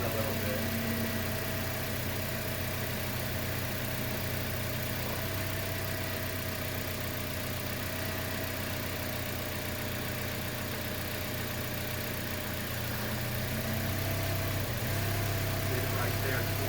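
A 2011 Toyota Corolla idles in drive with the air conditioning on, a steady mid-pitched engine hum running throughout with a couple of small dips where the idle stumbles from an intermittent misfire.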